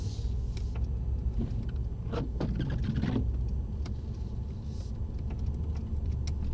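A Mercedes-AMG car rumbles low and steady while moving slowly at walking pace, with a few faint clicks and rattles over the engine drone.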